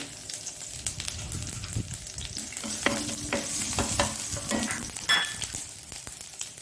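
Crushed garlic, finely chopped ginger and mustard seeds frying in hot oil over a low flame, heard as a continuous close sizzle with spattering crackles and the scrape of stirring.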